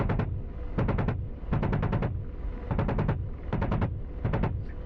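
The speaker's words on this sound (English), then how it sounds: "so my gun is actually armed now and it will fire where I want" An AH-64 Apache's cannon fires in the DCS combat flight simulator, sounding as about six rapid bursts of several shots each, loud and close over a steady low helicopter rumble.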